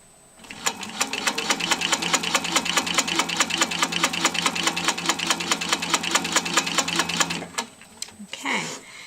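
A sewing machine stitches free-motion quilting along a boomerang ruler, a fast steady needle rhythm running loud and continuous for about seven seconds, then stopping abruptly with a brief rustle of fabric.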